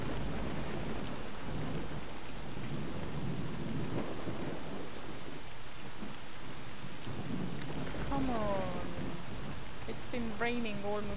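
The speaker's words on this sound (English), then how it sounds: "Raining almost non-stop ever since I came to Jupiter." Rain pours steadily in the STALKER video game, a dense hiss with low rolling thunder rumbling underneath, and brief voices break in near the end.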